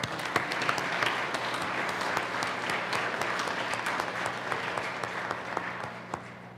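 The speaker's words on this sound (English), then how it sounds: "let's give them a round of applause" A crowd in the Colorado Senate chamber claps steadily for about six seconds, a dense, even wash of applause with scattered sharper claps that fades slightly at the end.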